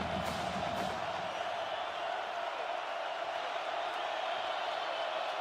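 A stadium crowd at the 2018 Oklahoma at West Virginia college football game roars on third down, a dense, sustained wash of cheering with no break in intensity.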